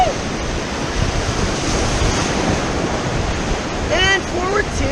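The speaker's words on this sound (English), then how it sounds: "There's some splashes in there." Steady rushing splash of white water around a raft on a river, loud and continuous, with a brief voice calling out near the end.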